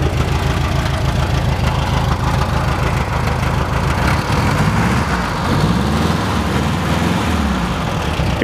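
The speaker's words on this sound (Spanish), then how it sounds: "Pues ya metí por aquí el bochito y ya anda arrancado" A Volkswagen Beetle engine, just repaired after generator work, runs loud and steady close by with a rough, knocking idle that holds throughout.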